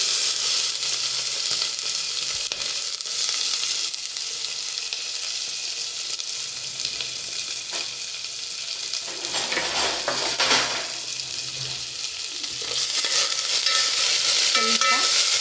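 Onion and curry leaves frying in a pan, a continuous moderate sizzle with occasional stirring and a brief clatter, growing a little louder toward the end.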